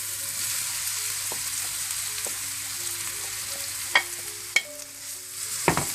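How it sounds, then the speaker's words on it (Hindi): Vegetables and rice for Chinese fried rice are stir-fried in a pan, with a steady sizzle and a few sharp scrapes and clanks of the utensil near the end, and no talk. "सब्जियों को भी थोड़ा सा भूनने के बाद आप चावल ऐड कर दें इसमें।"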